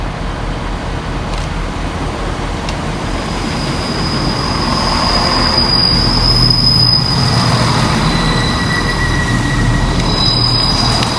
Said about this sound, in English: And now arriving into the station, the slightly delayed 1500 ScotRail service from Dundee through to Edinburgh Waverley